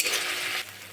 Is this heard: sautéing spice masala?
yes